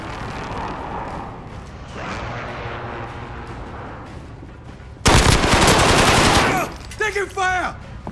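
Gunfire in Call of Duty: Modern Warfare: a muffled background of battle, then a sudden loud, sustained burst of automatic fire, followed by a few shorter bursts up close.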